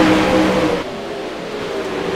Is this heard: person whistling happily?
no